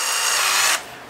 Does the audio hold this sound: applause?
no